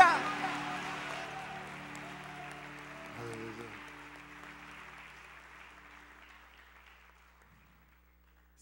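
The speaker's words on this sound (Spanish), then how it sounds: "Denle un fuerte aplauso a su Dios," A church congregation applauds during a devotional worship service, the broad clapping strongest at the start and fading steadily over several seconds beneath a sustained musical tone.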